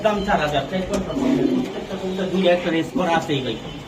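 Racer pigeons coo in repeated low, throaty calls close by, mixed in under someone talking over them.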